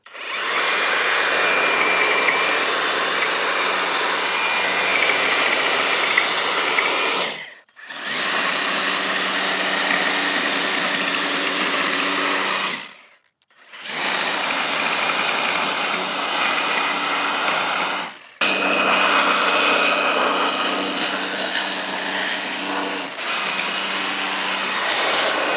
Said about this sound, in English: Okay, we're fixing to give this hedge trimmer a shot.